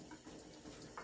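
Tap water runs into a plastic bowl in a kitchen sink as food is washed, a faint, steady trickling splash with slight shifts.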